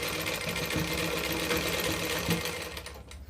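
A sewing machine stitches panels of plazo pants together, a steady fast mechanical whirring and clatter running continuously at close range before easing off at the end.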